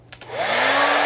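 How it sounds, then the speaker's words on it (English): A hair dryer is switched on after a couple of clicks and rises to a loud, steady whooshing roar as it blows heat onto wooden moldings to give them a weathered texture. "dryer"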